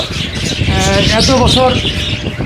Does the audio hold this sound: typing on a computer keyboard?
no